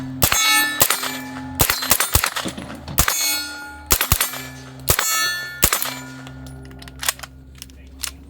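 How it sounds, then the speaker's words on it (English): A suppressed SilencerCo MP5 Omega 9K fires full-auto 9mm rounds in several short bursts, each a sharp metallic clang and clatter rising out of a steady low hum, with brief gaps between bursts. "Shooting full speed 9mm rounds here."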